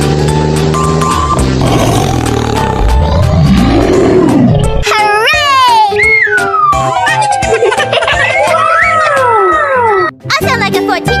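A cartoon tiger roars amid busy 3D animal video game sounds, with chirpy synthetic effects and other animal calls layered over loud, continuous game audio.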